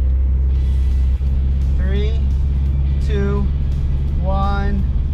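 Car engine accelerating hard through a second gear pull from 2,000 RPM, loud and close, with a deep steady rumble and rising harmonic sweeps as revs climb, repeated in three surges; a brief click near the start.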